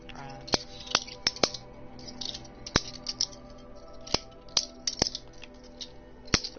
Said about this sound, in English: The hell is clicking? Butterfly knife.